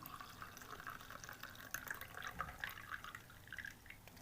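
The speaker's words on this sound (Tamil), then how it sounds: "இந்த தண்ணியை தான் நான் இப்போ ஊற்ற போகிறேன்." Boiled mudakathan leaf water is poured into a tumbler, a soft, quiet trickle with light drips and splashes running for a few seconds.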